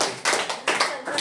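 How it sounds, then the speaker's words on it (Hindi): Schoolchildren in a classroom clap for a classmate, a short close burst of quick, slightly ragged handclaps in a few uneven waves. "जोरदार ताली बच्चे के लिए बना।"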